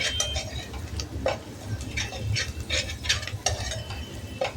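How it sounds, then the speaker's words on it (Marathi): Vegetables with turmeric being sautéed in a pan for a traditional Khandeshi dish, with a steady low sizzle and repeated scraping stirs, clicking utensil taps scattered throughout. "हळद घातली आपण, छान परतून घ्यायचंय।"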